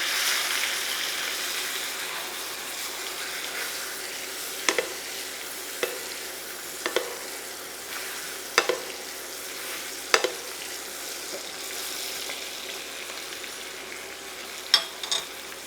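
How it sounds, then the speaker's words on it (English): Pork chops with the bone in sizzle and fry in a pan while being basted, a steady close hiss broken by several sharp spoon taps and clinks against the pan, with no talking. "I do is switch it around and baste a little bit on the other side as well."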